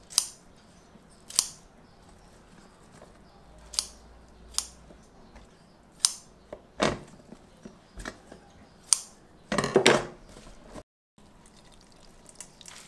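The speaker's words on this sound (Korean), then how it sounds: "좀긴 거는 이렇게 중간에 한번 잘라서 갈게요" Scissors snip through long bangpung greens in the middle for a seasoned vegetable side dish. Around a dozen sharp, separate cuts come at irregular intervals, close up. Soft kitchen water sounds run underneath, with no talking.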